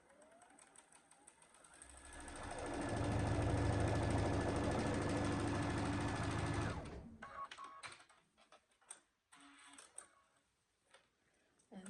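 A sewing machine chain-stitches quilt pieces together for an Irish chain quilt, running in one steady, close whirring burst for several seconds, then stopping into light handling clicks and rustles.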